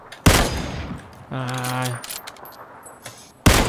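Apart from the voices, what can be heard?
gunfire in the video game PUBG Battlegrounds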